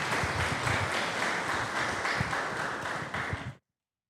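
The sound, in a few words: applause for a women's football team player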